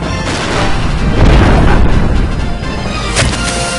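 A dragon's fire breath attack in Vagrant Story roars out as a loud, sustained whooshing blast with booming, explosive texture, swelling in the middle and flaring again near the end, with no talk.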